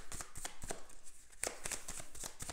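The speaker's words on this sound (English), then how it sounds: "I'm shuffling the astrological deck that I have" A deck of astrological tarot cards is shuffled by hand, with a quick series of crisp, papery riffles and snaps repeating steadily throughout, heard up close with no talking.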